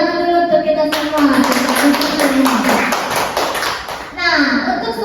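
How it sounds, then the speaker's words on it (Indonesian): A classroom group claps together in a burst of applause lasting about three seconds, with a voice speaking before and after it. "Oke, tepuk tangan dulu untuk kita semua."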